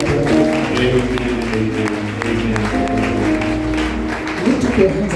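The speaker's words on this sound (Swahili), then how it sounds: "Tuwapigie makofi wanapoenda" A church congregation applauds as preachers leave. Steady, dense clapping runs throughout under a sustained musical tone, with a voice speaking over it.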